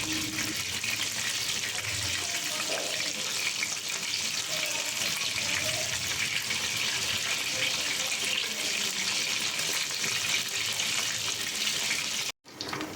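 Lotte (Bombay duck) fish frying in hot oil for a crispy fry, a steady dense sizzle and bubbling that runs unbroken and fairly loud, with a brief dropout near the end.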